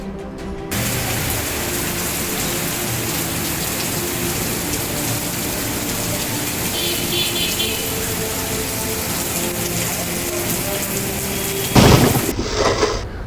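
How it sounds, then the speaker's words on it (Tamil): Heavy rain pours down steadily in Puducherry, a dense, continuous hiss that holds at an even level for most of the stretch, with a brief louder burst near the end. "தொடர்ந்து கனமழை பெய்து வருகிறது"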